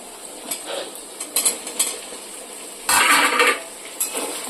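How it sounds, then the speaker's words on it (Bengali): Potatoes stirred into fried onions in a metal pan for a light chicken curry: sparse scrapes and clinks of a spoon against the pan, then a louder stretch of stirring over a faint sizzle. "আলুগুলো দিয়ে একটু নাড়াচাড়া করে নেব।"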